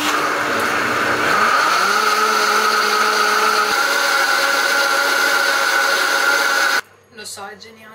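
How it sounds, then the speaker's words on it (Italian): A kitchen blender runs loud and steady with water and dish soap inside to clean it, its motor whine settling into a constant drone before cutting off abruptly, followed by brief faint talk. "Non so se vi ho mai fatto vedere come pulisco il frullatore. Acqua, sapone dei piatti,"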